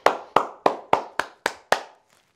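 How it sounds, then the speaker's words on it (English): Seven single hand claps in a slow, even rhythm at a home dance lesson, close and crisp with short room echo, then silence. "Give yourselves a clap."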